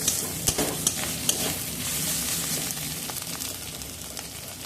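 Onion, garlic, ginger and spices fry in ghee with a close, busy sizzle. Several sharp clicks of stirring come early, then the crackling hiss carries on steadily with no voices.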